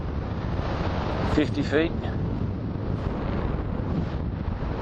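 Strong gusting wind buffets the microphone throughout a flight in high winds, a loud broadband roar with someone talking over it.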